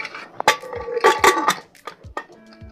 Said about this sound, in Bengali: এবার একটু চামচ দিয়ে নেড়ে মিশিয়ে নেব